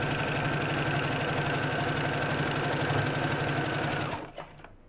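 A Brother sewing machine runs at a steady, fast rhythmic whir for about four seconds, close and loud, then slows and stops near the end with no talking.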